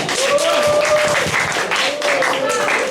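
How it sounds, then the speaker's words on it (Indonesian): Audience applause at the close of a certificate sales session during a research dissemination event, sustained clapping with a voice talking over it throughout. "Tepuk tangan yang meriah untuk kita semuanya"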